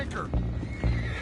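Horses down below in an outdoor game scene, a neigh with a couple of heavy, muffled hoof thuds, fairly close, under a busy background.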